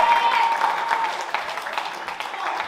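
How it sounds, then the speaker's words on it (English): Crowd at a live wrestling match cheering and clapping for a wrestler, a steady wash of applause and noise with a commentator's voice over it. "The crowd lighting up for the Iron Cobra"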